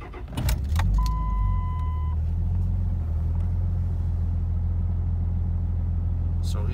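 A 2005 Ram truck engine cranks and catches after a clink of keys, then settles into a deep, steady idle rumble that runs on alone, close and moderately loud.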